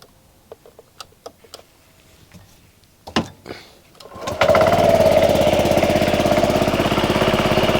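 A Honda Forza 125 scooter with a new belt and replaced starter alternator, keyless-started after some clicks and taps, then settling into a steady, loud, close idle hum.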